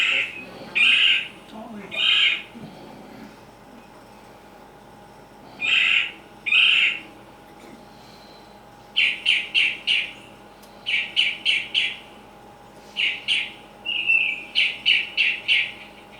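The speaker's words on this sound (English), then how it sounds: "So that is the red-bellied woodpecker." Red-bellied woodpecker calls outdoors: pairs of harsh churring notes, then faster rolling trills repeated in bursts, moderately loud against a quiet background hum.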